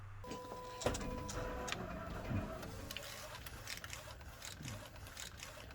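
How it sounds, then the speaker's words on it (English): Freejet 330TX DTG printer laying down a white ink underbase, a faint mechanical whir with irregular ticks and clicks as the print carriage moves, quiet and without voices. "we're printing the white underbase on top of this color ink layer"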